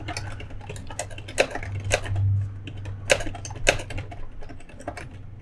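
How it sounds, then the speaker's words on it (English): Fingers tap steadily on a computer keyboard while text is entered in Microsoft Word, a quick clicking run of keystrokes with a few louder presses over a low hum, close and with no voices. "if I just continue typing to the end of the line here and continue"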